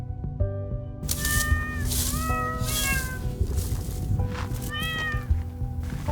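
Several kittens on a cat farm meow repeatedly in rising, drawn-out cries, close and loud, overlapping one another above steady background noise, with no one speaking.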